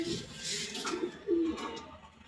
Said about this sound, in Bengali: এটা ফ্রি কবুতর